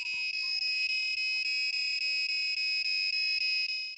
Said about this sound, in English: now we can hear different tones that the buzzer produce, that are the 10 frequencies being played